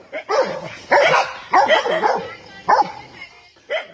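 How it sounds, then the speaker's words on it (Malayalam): Several pet dogs bark in rapid, excited bursts close by while chasing a wild boar through farm fields, with short gaps between the yaps and whines. "കൃഷിവിളകൾ കുത്തിമറിക്കാനെത്തിയ കാട്ടുപന്നിക്ക് നേരെയാണ് നായ്ക്കളുടെ പോരാട്ടം"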